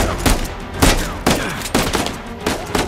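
Repeated gunfire in Uncharted: A Thief's End, on PS5, sharp close shots every half second or so over continuous background noise, in a steady rhythm through the whole stretch.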